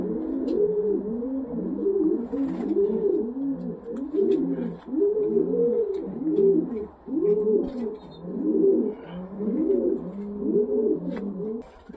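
Several pigeons coo steadily and close by in a loft, their low rolling calls overlapping in a continuous chorus with faint rustling behind.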